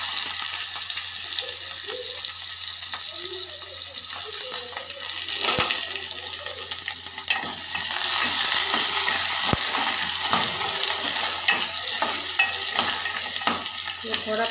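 Onion fries in a pan for khichdi chokha, giving a loud, continuous hiss of sizzling oil for the whole stretch, broken by a few sharp clicks and clatters.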